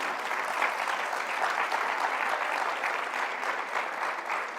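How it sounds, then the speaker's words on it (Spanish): A church congregation applauding steadily during a Spanish-language sermon, a dense, even wash of many clapping hands that stays loud and continuous throughout, with no voices on top. "las hermanas aplaudieron"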